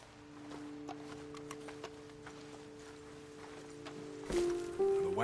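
Steady hooves clip-clopping at a slow walk in Red Dead Redemption 2, fairly close, with a soft ambient tone underneath and a couple of brief sharper sounds near the end.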